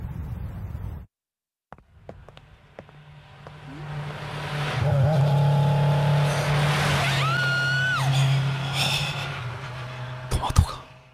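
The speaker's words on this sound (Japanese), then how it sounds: "今のオートバイ、僕を狙ってた。" Motorcycle from the video game Double Cast roaring up and speeding past, a loud rising engine whine with a squeal that builds and then fades, over game background music.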